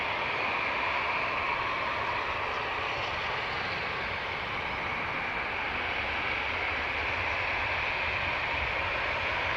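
A Ryanair airliner lands at Dublin Airport, a steady broadband jet roar that holds evenly throughout without any pauses or voices.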